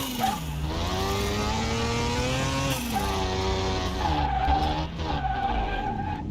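A car skids under hard braking in the Car Mechanic Simulator 2021 video game, a steady tire scrub over a droning engine tone whose pitch sags and wavers for about six seconds, with no talk.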